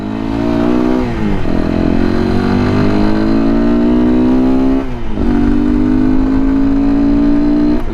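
Motorcycles roar past close by, engines loud and continuous with rising revs, a gear change near the first second and another pass around the fifth, with no talking.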